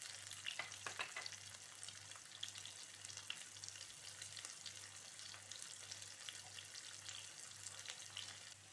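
Potatoes fry and brown in a pan with a faint, steady, even sizzle that runs throughout, with a few soft crackles early on and no talk over it.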